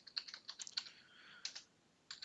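Keys clatter on a computer keyboard as a terminal command is typed, quick irregular clicks in short bursts with brief pauses, close and quiet, no voices.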